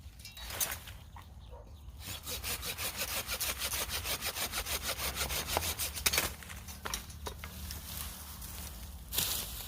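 Hand saw cutting through a dug-up bamboo rhizome, a fast rhythmic back-and-forth rasp up close, with pauses and a few knocks.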